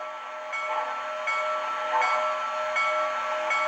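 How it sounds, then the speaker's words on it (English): An MTH HO-scale Baldwin Yellowstone 2-8-8-4 model steam locomotive with Proto Sound rings its bell in a steady, evenly spaced clang, about one strike every three-quarters of a second, alone and close. "Here's the bell."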